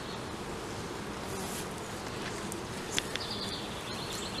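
A small swarm of honeybees buzzes steadily inside a swarm trap box, a dense close drone that holds for several seconds with a few faint rustles and clicks over it.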